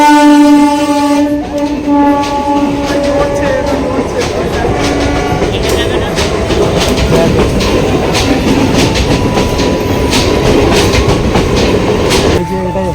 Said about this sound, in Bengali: এখান থেকে ট্রেন যাবে, এই লাইন দিয়ে ট্রেন যাবে